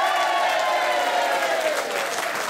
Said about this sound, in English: give them a massive cheer